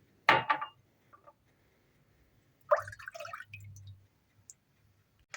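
Milk poured into a saucepan in a home kitchen, heard as two short close splashing pours separated by quiet, with faint clinks of cookware.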